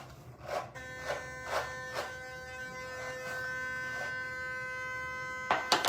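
Electric toothbrush brushing teeth at home, a steady mid-pitched motor buzz with soft rhythmic pulses as it works, running for several seconds before a short clatter at the end.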